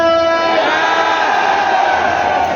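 A seminar crowd yells a loud, sustained group shout with hands raised, a dense wall of many voices holding for a couple of seconds before breaking into ragged cheering.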